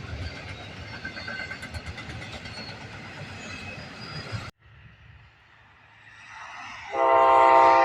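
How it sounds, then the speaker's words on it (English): An eastbound intermodal freight train rumbles loudly nearby for several seconds, then after a brief lull its horn sounds in a strong, sustained blast that grows toward the end. "Next up here was an eastbound Intermodal with a very nice horn."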